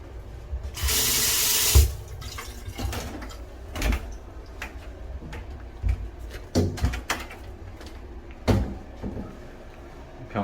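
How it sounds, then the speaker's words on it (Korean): Tap water runs in an apartment bathroom for about a second, then a string of knocks, thumps and clatters follows, loud and close. "변기 이제 물 잘 내려가는지도 확인을 꼭 하셔야 됩니다."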